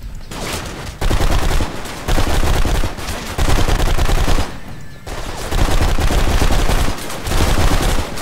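Automatic gunfire from the video game Blacksite: Area 51 rattles in loud, sustained bursts with brief gaps between them, dense and close throughout.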